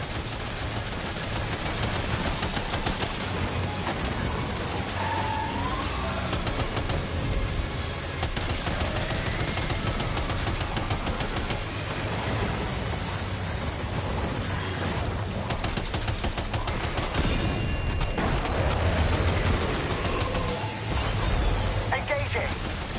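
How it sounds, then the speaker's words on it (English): Sustained gunfire in the video game Death Stranding 2 during a fight with a giant ghost mech, dense and continuous bursts that blend with roaring effects and a low rumble, with voices speaking over it throughout. "Opening fire now."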